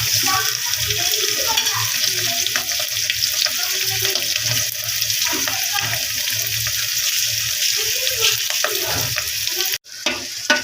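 Chicken liver masala frying in a pan, a loud continuous sizzle with scraping stirs throughout, ending in a brief sharp clatter.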